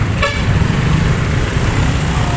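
Congested traffic on Payatas Road, with a brief horn toot early on over a loud, constant drone of idling cars, trucks and motorcycles nearby.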